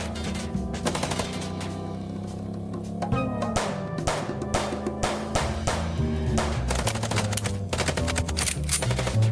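Rapid bursts of automatic gunfire in the video game Chicken Police, loud and close, with repeated rattling volleys that continue steadily throughout over a low background score.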